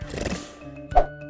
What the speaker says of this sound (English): Dinosaur.